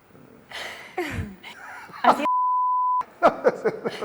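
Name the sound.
censor beep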